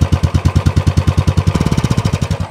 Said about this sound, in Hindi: पहले मैं बिना इसे लगाए यहाँ पे आपको जस्ट साइलेंसर का जो आवाज है वो सुनाता हूँ